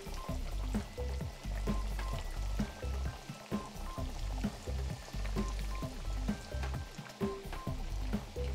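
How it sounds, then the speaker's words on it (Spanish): Potato, tuna and cheese patties frying in very hot oil, a steady loud crackling sizzle with popping bursts throughout and no talk. "Ya el aceite está bien caliente y vamos a ir poniendo las tortitas"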